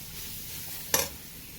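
Grated coconut roasting in a pan for chammanthi gives a soft, steady sizzle, broken by a single brief scrape of stirring near the middle.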